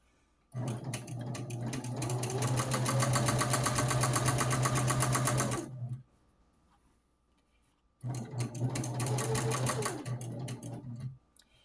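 A sewing machine quilting across a Jeep-themed quilt panel runs in two loud, steady bursts, the first about five seconds long, then a pause and a shorter second run, with no talking.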